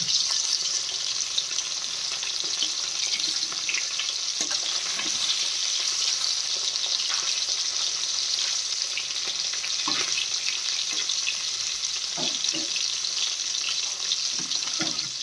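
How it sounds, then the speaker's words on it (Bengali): Fish frying in a pan gives a steady, dense sizzle throughout, with occasional soft clinks and scrapes of a utensil; no one speaks. "মাছ ভাজা হয়ে গেছে"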